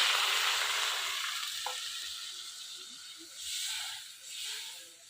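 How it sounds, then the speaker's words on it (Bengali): Water poured into a pan of hot oil for a Bengali village fish curry, a loud steady sizzling hiss that slowly fades and then swells twice more as it settles, no talking. "এটার মধ্যে জল দিয়ে দিলাম।"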